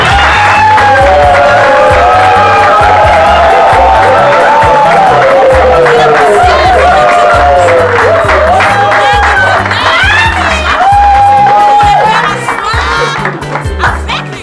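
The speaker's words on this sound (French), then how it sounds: "Sous vos acclamations, s'il vous plaît." Wedding guests cheer and whoop for the bride's entrance over loud music with a pulsing bass beat, shouts and applause rising above the track, with voices calling out throughout.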